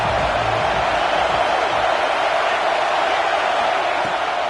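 A football stadium crowd in a video game roars in a steady, dense wash of cheering noise that holds evenly throughout without a break.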